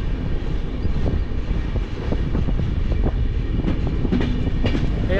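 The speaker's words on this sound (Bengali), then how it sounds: "এখন আমরা পৌঁছেছি হচ্ছে নামকম স্টেশন" A train slows into Namkum station near Ranchi, a loud, continuous rumble of wheels and carriages with faint rhythmic clatter, heard close from on board with no talk.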